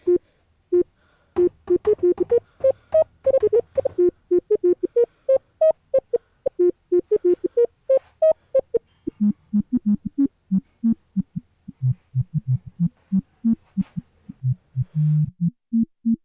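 A resonant, whistling tone from a self-oscillating synthesizer filter, the Leapfrog Filter kit, played as a quick staccato melody, each note sharp and separate, loud and alone, shifting pitch lower toward the end.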